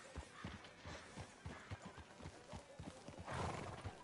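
Horse hooves clopping in Red Dead Redemption 2, a steady run of hoofbeats with whinnies and a gusty rush of noise near the end, with no speech over them.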